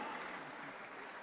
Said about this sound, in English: Give Jesus a clap offering.